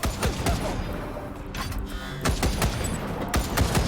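Rapid bursts of machine-gun fire in the video game Wasteland 3, with sharp repeated cracks coming in clustered volleys and pauses.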